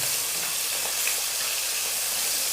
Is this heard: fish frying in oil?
yes